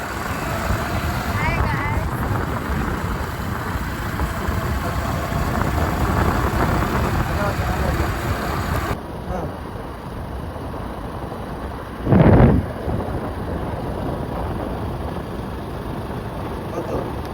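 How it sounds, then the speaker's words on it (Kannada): A motorbike engine drones steadily while riding at speed on a road, with continuous rushing wind noise and a brief louder burst near the end, talk heard over it. "ಬರೀ ಗಾಡಿ ಸೌಂಡ್ ಕೇಳ್ರಿ ಹೆಂಗಿರ್ತದ"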